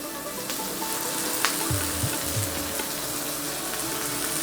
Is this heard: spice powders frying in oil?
yes